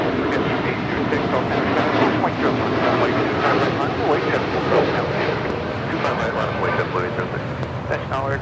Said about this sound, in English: That was United Airlines 1897 departing to Chicago O'Hare on a 787-10 Dreamliner.